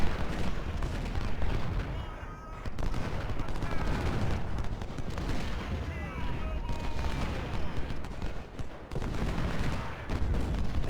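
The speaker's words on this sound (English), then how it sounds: "And look at, even the ships are shooting." Warships and cannons firing in a siege battle in Ultimate General Civil War, a dense barrage of booming shots and crackling gunfire layered continuously, with some faint voice-like chatter in the mix.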